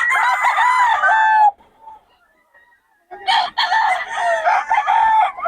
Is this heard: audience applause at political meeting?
no